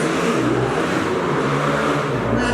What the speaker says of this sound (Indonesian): Sorry guys, ada motor lewat.